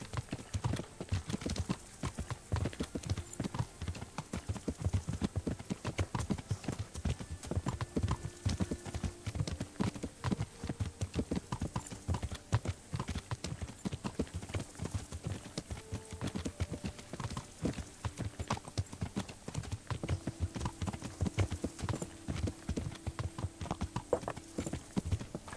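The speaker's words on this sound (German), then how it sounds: "So, Hans, wollen wir mal ein bisschen galoppieren?" Horse hooves galloping in the video game Kingdom Come: Deliverance, a fast, continuous clip-clop rhythm at moderate level, with faint snorts and a light ambient bed and no talk.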